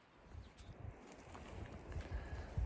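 Gusting wind swirls snow outdoors during a spring black bear hunt in British Columbia, a low rumbling buffet on the microphone that rises and falls in uneven waves, strengthening toward the end, with no talking.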